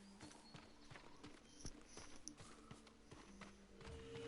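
Horse hooves clip-clop in the Ghost of Tsushima video game, a steady walking rhythm of clopping under a constant low ambient bed. The hoofbeats sound fairly quiet and near.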